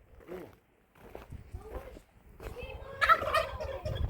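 Poultry in a garden make a few faint, scattered gobbling clucks over quiet outdoor background, with louder rustling and handling noise near the end.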